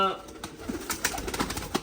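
Pigeons coo softly in short, low murmurs nearby, with a person talking quietly alongside them.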